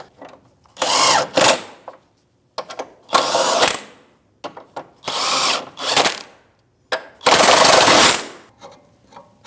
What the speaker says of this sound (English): That's an 18mm socket, and we're just going to snug them up before we bolt up everything else.